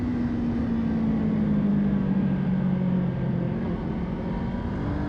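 A Kawasaki Ninja 500 motorcycle pulling in third gear on a canyon road, its engine droning steadily with a slowly falling pitch under rushing wind.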